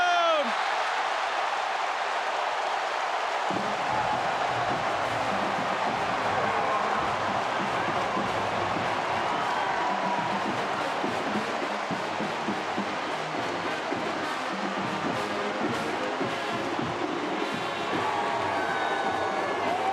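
A stadium crowd at an Ohio State versus Iowa college football game roars after a touchdown, a loud, sustained wall of cheering and shouting that stays steady throughout.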